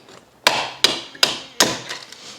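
A screwdriver pries a part out of an electric unicycle during a teardown, giving four sharp, close tapping clicks spaced about a third of a second apart, each ringing briefly before fading.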